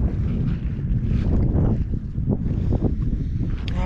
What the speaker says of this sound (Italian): c'è il vento, venticello, neanche troppo forte